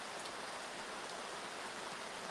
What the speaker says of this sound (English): I don't know if you can actually hear how heavy it's raining right now.